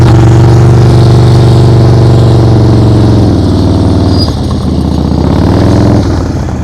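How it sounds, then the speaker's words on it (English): Motorcycle engine held at steady low revs during slow-speed riding practice, loud and close, its pitch dipping and wavering midway before settling again. "Just listen to your engine."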